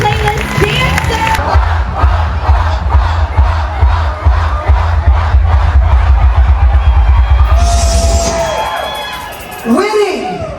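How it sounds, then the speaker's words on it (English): A loud crowd on a cruise ship party night cheers, shouts and whoops in a sustained roar over thumping bass music, with an announcer's voice rising near the end. "keep that applause going for your playlist dancer."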